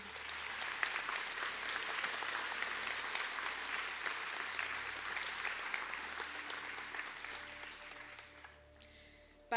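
Sustained applause from a seated audience at an Irish college conferring ceremony, honouring Interior Architecture and Design graduates, steady dense clapping for about nine seconds before tapering off.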